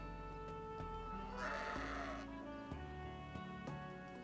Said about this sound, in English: That is certainly a sheep.